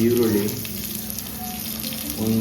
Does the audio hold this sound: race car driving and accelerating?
no